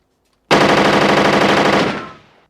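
Gunshots fired in a sudden loud burst of rapid automatic fire, lasting about a second and a half before trailing off, close and alone with no talk.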